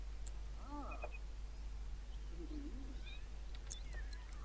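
Several short cat meows from a cat being bathed in The Sims 3 Pets sound over a steady low hum and quiet electronic background, with little else happening.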